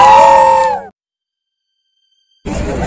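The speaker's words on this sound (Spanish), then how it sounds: "un grito." A group of young people give a loud, sustained shout together, close and strong for under a second, followed by a sudden silence and then renewed noise from the crowd.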